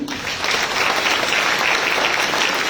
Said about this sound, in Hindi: मैं उनके लिए भी आपसे तालियां चाहूंगी।